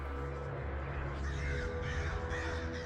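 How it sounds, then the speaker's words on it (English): Crows caw and fly by in a video game, harsh repeated calls over a dense, continuous ambient bed, fairly faint. "Crows will fly by, distracting you"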